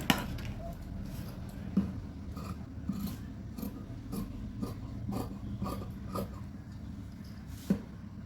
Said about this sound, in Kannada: ಇವಾಗ ಇದನ್ನು ಕಟಿಂಗ್ ಮಾಡ್ತೀನಿ.